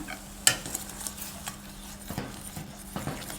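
Thickening tom kha sauce with coriander, culantro and torn kaffir lime leaves is stirred in a pan: soft close scraping and occasional light utensil clinks over a low bubbling simmer.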